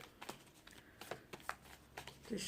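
Tarot cards riffle and slap together in a series of short, crisp bursts, close and fairly quiet, with a soft hiss between them in a calm indoor room.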